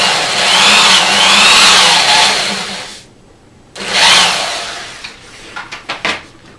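A power drill drives a self-tapping screw into a wall while mounting a backdrop roller system. Two long, loud whirring runs are split by a short pause, then a few quick bursts finish the screw.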